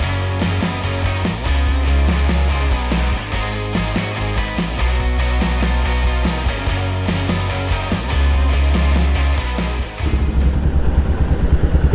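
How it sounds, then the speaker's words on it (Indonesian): A custom Royal Enfield Himalayan motorcycle rides on a road, its single-cylinder engine thumping loudly and close with repeated rises and gear changes, plus wind and road noise throughout. "sekarang waktunya kita cobain Royal Enfield Himalayan yang udah di custom sama Smoke Garage nih"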